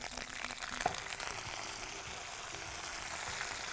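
Curry leaves and a handful of mint fry in hot oil with a constant crackling sizzle and one brief sharper pop early on, nearby and fairly quiet.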